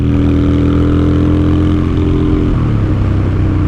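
A Honda Shadow motorcycle engine runs loud and close, holding a steady throaty rev before the pitch drops as the throttle eases off.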